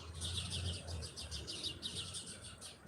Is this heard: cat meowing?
no